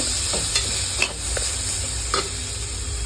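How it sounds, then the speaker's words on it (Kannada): Onion and tomato frying in a pan for shavige upma, a steady close sizzle with a few soft scrapes of a spoon stirring, no voices. "ಈರುಳ್ಳಿ ಫ್ರೈ ಆಗಿದೆ ಇದಕ್ಕೆ ಟೊಮೊಟೊ ಹಾಕೋತಾ ಇದ್ದೀನಿ ಈಗ ಟೊಮೊಟೊ ಒಂದು ಸ್ವಲ್ಪ ಫ್ರೈ ಆದರೆ ಸಾಕು"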